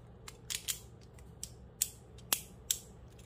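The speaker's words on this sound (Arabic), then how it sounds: "اخر شيء بس بسمعكم صوت التيث." A Beyblade string launcher's ratchet teeth clicking, a few quick sharp clicks spaced irregularly, fairly quiet and close, with no talk.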